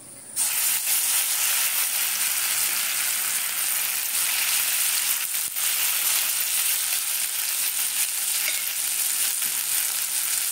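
Batter fries in hot oil for a breakfast snack, a loud, even, continuous sizzle close up that holds steady from start to finish.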